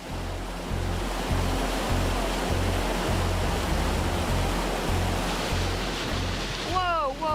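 Roughly 30 centimetres of floodwater rushes past in a loud, continuous roar close by, strong enough to push a one-tonne car backward. A low rhythmic rumble runs beneath it, and a brief voice-like warble appears at the end.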